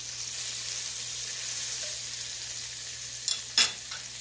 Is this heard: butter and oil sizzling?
yes